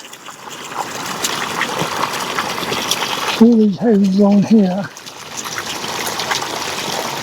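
Water gushes and splashes steadily as it drains out of a residential property onto a flooded street, a loud continuous rush heard close, with someone speaking over it briefly midway.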